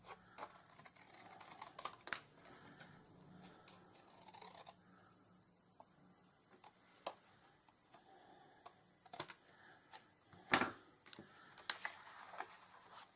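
Stamped white paper being trimmed with scissors in a papercraft session: faint, scattered snips and small crisp clicks spread irregularly across a quiet room, close by, with no voices.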